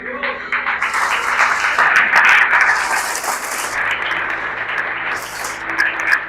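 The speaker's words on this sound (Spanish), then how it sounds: "Vamos a darle un aplauso al Señor por eso" A church congregation at a prayer service bursts into steady applause, dense and lively, with voices and cheers mixed in over the clapping.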